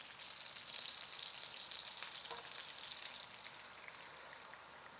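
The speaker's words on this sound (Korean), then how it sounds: "이제 아까 만들어 놓은 양념장을 부을게요" Seasoning sauce poured over braised chicken wings simmering in a pan on an induction hob, a soft steady bubbling sizzle at low level, continuous and without talk.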